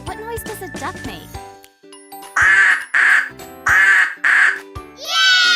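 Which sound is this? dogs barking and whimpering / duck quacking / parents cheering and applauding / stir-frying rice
duck quacking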